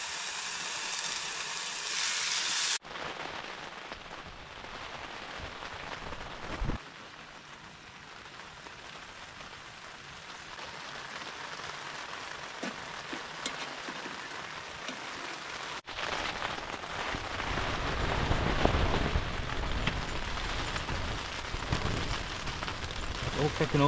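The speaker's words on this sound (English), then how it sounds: "Spoke too soon, listen to that rain." Heavy rain patters and hisses steadily on a tent close by during winter camping in Scotland, growing heavier and louder toward the end, with a few soft bumps and shifts.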